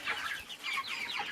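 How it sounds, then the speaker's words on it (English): A barred rock rooster and hens cluck in a farmyard, soft, fairly faint bursts of clucking in quick overlapping calls with a short pause in the middle. "Here's a barred rock rooster."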